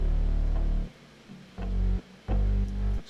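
A layered bass part combining a distorted bass sample with a real bass guitar, heard as a few loud, deep, thick sustained notes separated by short gaps, with no talking.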